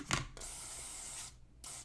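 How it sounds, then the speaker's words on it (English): Control cleaner hisses from a spray can onto electronic jacks of a Heathkit stereo preamp, one steady close burst of about a second, then a short second squirt after a brief pause. "I'm just going to spray these with a little bit of neutral control cleaner"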